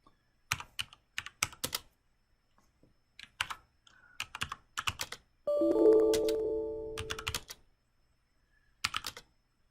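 Quick bursts of typing on a computer keyboard at a Windows 10 command prompt, crisp clustered keystrokes with short pauses, interrupted midway by a brief electronic tone, fairly close and quiet.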